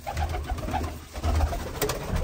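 Pigeons coo close by in soft, low repeated murmurs that swell and fade across the moment, with faint background noise and no speech.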